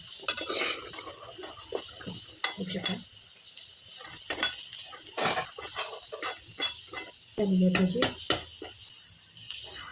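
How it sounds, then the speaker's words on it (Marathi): Bhaji fritters go into hot oil in batches, giving a soft frying hiss broken by the scrapes and clinks of a utensil against the pan, with a voice talking over it. "आता दुसरी बॅच पण असूच तळून घेते मी तेल गरम करून घ्यायचं आहे आणि त्यात हळूहळू भजी सोडून घ्यायच्यात"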